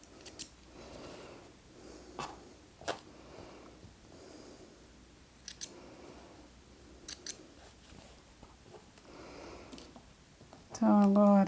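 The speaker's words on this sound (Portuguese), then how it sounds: "Só tô tirando o excesso de linha para adiantar" Scissors snip off excess sewing thread while making a fabric Easter bag with bunny ears, giving a series of short, sharp cuts spaced a second or two apart, with quiet handling noise between them and a louder bump at the end.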